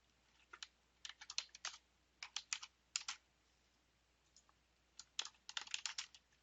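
Quiet computer keyboard typing while entering form details into an application, rapid clusters of key clicks in short bursts separated by pauses, close and faint, with no talking.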